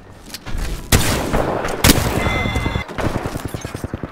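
Rapid gunfire in the Apex Legends video game, with two sharp loud shots followed by fast bursts of automatic fire in quick, rattling succession.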